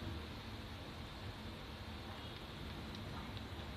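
Hail falls steadily during a storm in Ulaanbaatar, Mongolia, a dense, even hiss of pelting ice with faint scattered ticks and no voices.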